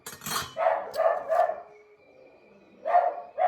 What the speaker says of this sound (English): And excuse Dookie, he's barking outside